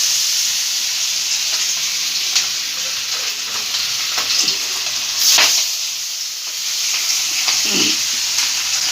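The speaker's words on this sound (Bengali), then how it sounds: "কড়াই তেল গরম হয়ে গেছে, এবার মাছ এক এক করে মাছ ভেজে নিচ্ছি।" Fish pieces fry in hot mustard-oiled wok oil, a loud continuous sizzle and hiss with occasional spatters and pops, close by, with no voices.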